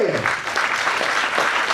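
Continuous applause from a large seminar crowd in Delhi, a thick, even roar of many hands clapping at close range, with a brief voice at the very start.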